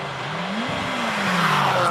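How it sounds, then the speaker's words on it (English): A Chevron B20 Works F3 race car drives away at a hillclimb, its engine note rising and sweeping loudly as it accelerates, continuous and fairly close against a roaring background. "This is a magnificent looking car, the Works F3 race car."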